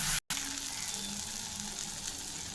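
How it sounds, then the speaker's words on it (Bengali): Fried vegetables such as cauliflower, capsicum, carrot and beans sizzle in a spiced masala for mixed paneer, a steady close frying hiss with a brief dropout near the start. "এবার যে আমার সবজিগুলো ভাজা আছে সেগুলো আমি একটা একটা করে দিয়ে দেবো।"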